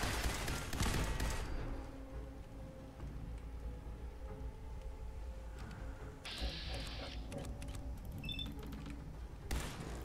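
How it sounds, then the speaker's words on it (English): Gunfire from a weapon in Fallout 4, with a dense burst of shots at the start and another at the end, low game ambience and a mechanical whirring and beeping in between, moderately loud with no voice. "Really good shot with this gun."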